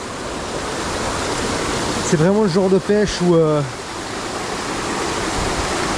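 A rushing river in a prehistoric gorge during trout fishing, a loud steady broadband roar of water running throughout, with someone talking briefly over it in the middle.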